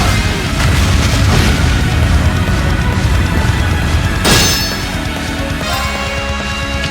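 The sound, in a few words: Destruction cannon blast in video game Trails of Cold Steel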